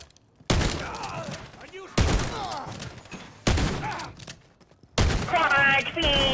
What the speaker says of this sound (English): You clear the locker room with a shotgun,